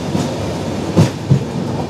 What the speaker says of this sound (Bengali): আমাদের ট্রেন এখন ঢুকলো সেবাগ স্টেশনে।